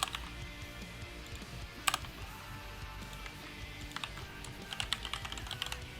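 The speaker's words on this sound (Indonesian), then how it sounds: "Aduh, kita ketik lagi ya Aca." Rapid typing on a computer keyboard while fixing a program, a steady patter of close key clicks with a few louder strokes, continuous throughout with no talking.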